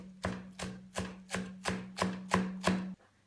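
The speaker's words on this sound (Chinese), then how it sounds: "接下来切一些小葱花" Spring onions chopped with a knife on a board: eight steady, evenly spaced thuds of the blade, close and fairly loud, with no voices.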